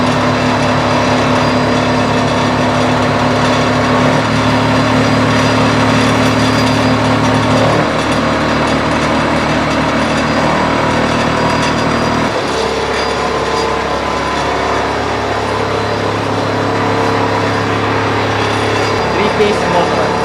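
Homemade three-phase motor invention with a hanging differential runs steadily and fairly loud, a continuous mechanical whirr with gear and ratchet-like rattle that shifts pitch a few times.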